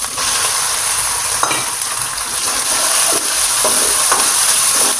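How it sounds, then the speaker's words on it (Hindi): Chicken frying over high heat in ghee with browned garlic, a steady loud sizzle throughout with occasional stirring scrapes in the pan. "तेज़ आंच पे आपने चिकन को जो है ना फ्राई करना है"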